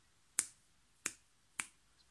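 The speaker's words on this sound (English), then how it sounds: "Can you snap your fingers?" Three crisp finger snaps ring out alone at an even pace, each a sharp, close click with a short decay and quiet between them.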